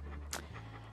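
A dog panting in the Monkey Island 2: LeChuck's Revenge Special Edition video game, a short breathy huff over a steady low background hum, with no talking.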